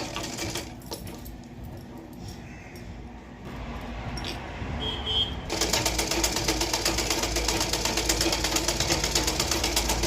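A sewing machine stitches the side seam of a blouse, starting quietly with a few clicks and then running in a loud, steady stream of rapid stitching up close.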